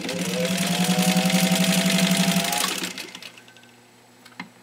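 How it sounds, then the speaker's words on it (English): A Singer 15-91 direct-drive sewing machine stitches through a thick layer of tanned cowhide leather with a steady, close, rapid whirring hum for almost three seconds, then stops, leaving quiet with a faint click. "show you just how easily this machine can go through a thick layer of cowhide leather like this"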